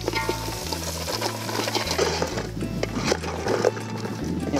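Crab and masala frying in a pan, a close, steady sizzle broken up by repeated scraping and clattering stirring strokes, with a faint voice in the background.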